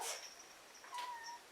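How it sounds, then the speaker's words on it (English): A pet cat at home gives a few short, faint meows and chirps, thin and high, spread across a quiet moment with no talking. "now we can hear little kitty meows"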